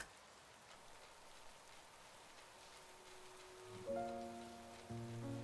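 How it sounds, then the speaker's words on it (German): Steady rain pattering in the background, a soft continuous hiss with light drips, joined near the end by sustained music tones. "Ich liebe das Prasseln des Regens im Hintergrund zur Musik."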